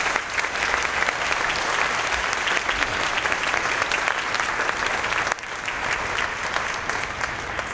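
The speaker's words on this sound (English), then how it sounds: "Let's give them a round of applause." A concert audience gives the Heritage Chorus's tour coordinators a round of applause, dense and steady clapping that fills the hall, dipping slightly partway through and then continuing without any voices.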